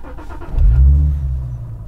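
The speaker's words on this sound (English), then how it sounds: "Let me start the car and show you something." A car engine cranking and catching, with a brief starter whirr followed by a loud low rumble that swells and settles into a steady idle, heard close with no talk.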